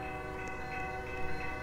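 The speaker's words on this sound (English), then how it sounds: "So this is a steam locomotive" Steam locomotive 761 in Roblox gives off a steady droning, horn-like chord with a faint rumble beneath, brief and continuous, with no voices.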